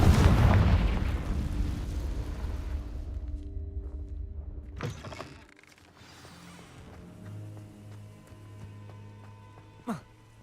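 Hogwarts Legacy game audio: a Confringo blasting spell explodes in a heavy rumbling boom that fades into a quieter background, followed by a sharp pop near the end.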